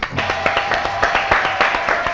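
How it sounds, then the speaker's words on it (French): A small group claps for a singer in a quick, fairly regular rhythm, close and distinct, with a faint voice underneath. "on va l'applaudir les filles"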